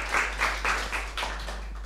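An audience at a social innovation seminar applauds to welcome a speaker, a short burst of rhythmic, fairly close clapping in several swells.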